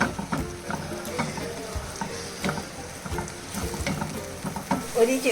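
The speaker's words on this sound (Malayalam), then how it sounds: "ഇത് ഫസ്റ്റ് എണ്ണ ചൂടായേരം ഉള്ളിയും വെളുത്തുള്ളിയും ക്രഷ് ചെയ്തത് ഇടുക" Crushed onion and garlic fry in hot oil, a busy crackling sizzle mixed with stirring clinks and scrapes, fairly close and continuous throughout with no voices.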